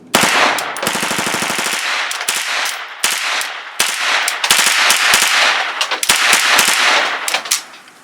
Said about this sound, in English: KR9 with a full mag of Federal aluminum.